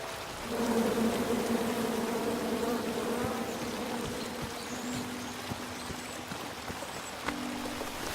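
A steady, close insect buzz in King's Quest drones on throughout, like a swarm of bees hovering nearby, with faint trickling and patter underneath.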